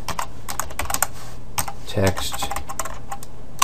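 Quick, uneven clatter of keys on a computer keyboard as JavaScript code is typed into an HTML file, close and steady, with a voice speaking over the clicking.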